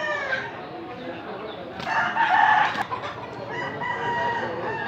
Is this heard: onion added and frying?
no